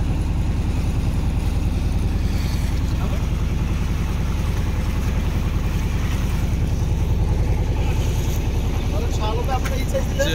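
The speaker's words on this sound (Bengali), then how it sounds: "আমাদের ট্রলারটি খুব সুন্দরভাবে যাচ্ছে" A trawler boat's engine chugs steadily while cruising across a wetland haor near a bridge, a loud, constant low throb with rapid regular pulsing that holds without pause.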